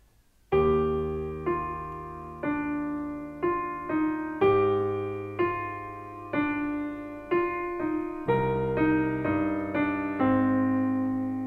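Solo piano accompaniment to a song played with both hands: a steady sequence of struck chords and bass notes, each ringing and decaying before the next, clear and close with no voices.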